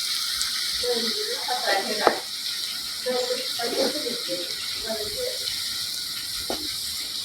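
Food frying in a pan for a home-cooked suhoor meal, a steady broadband sizzle and hiss running throughout with occasional spatter pops and a clatter, while a voice talks faintly underneath.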